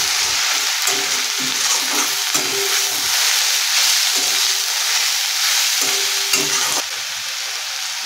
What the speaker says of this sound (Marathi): कांद्याचा जो हिरवा भाग आहे तोही घालायचा. हेही आपल्याला 2 मिनिट हाय फ्लेमवरती टॉस करायचं आहे